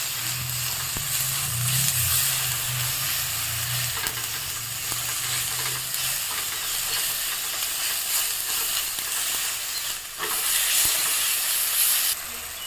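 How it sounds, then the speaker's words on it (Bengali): Spices with salt and turmeric powder sizzle and get stirred in a pan, a continuous loud frying hiss with occasional scraping, briefly dipping before resuming. "সবগুলো উপকরণ ভালো করে নেড়ে চেড়ে ভেজে নেব।"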